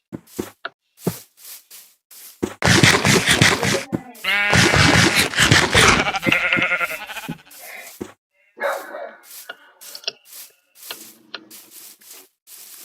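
Cows in the Minecraft video game give a series of loud, drawn-out lowing calls in the middle stretch, surrounded by short clicking game sounds and brief quieter blips.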